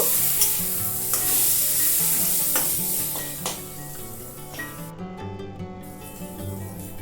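Raw chicken being worked by hand with green chilli, salt, turmeric, cumin and sugar for a Kashmiri chicken dish: steady, close, wet churning and squelching with occasional sharp clicks over a faint low hum, no voices.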